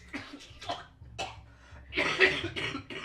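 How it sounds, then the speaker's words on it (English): A woman coughs repeatedly in short, uneven bursts, then a louder cluster of harsh coughs follows, close and fairly quiet. "She opens her mouth and then just starts coughing a whole lot"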